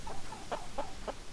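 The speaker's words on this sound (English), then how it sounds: "Look at them chickens." Chickens on a farm in the video game Hollow Cocoon cluck softly in short repeated bursts, about four quick clucks over steady low background ambience.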